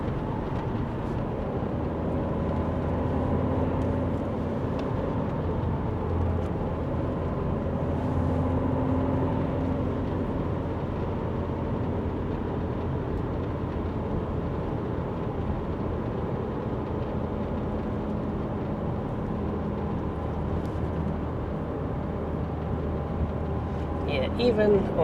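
An Alfa Romeo 159 2.0 JTDm diesel drives along with a steady, low engine drone and road rumble, heard from inside the car and staying even and unbroken throughout.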